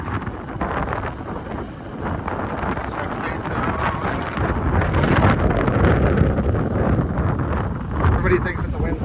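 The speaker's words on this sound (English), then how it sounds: "there's still plenty of wind right now" Strong, steady wind roars and buffets against the microphone at a kiteboarding spot in Kalpitiya, a loud, continuous rushing that swells slightly over several seconds.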